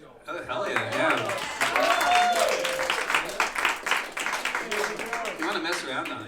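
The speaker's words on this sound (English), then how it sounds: "We get a round of applause for the Sears Roebuck banjo" A small gathering applauds after a Sears Roebuck banjo performance at a house event, steady clapping under cheers and people talking throughout.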